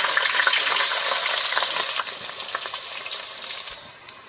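Fenugreek seeds and green chillies fry in hot oil, a loud, dense, continuous sizzle up close that eases gradually toward the end, with a few faint stirring clicks and no talk.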